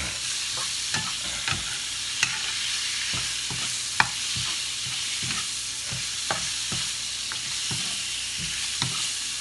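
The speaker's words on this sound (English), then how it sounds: "I don't put this sauce in yet because I want to allow the shrimp to cook a little bit first. So I stir fry this until they're halfway cooked." Shrimp stir frying in a hot pan, a steady loud sizzle with sharp clicks and scrapes of stirring every second or so, no voices.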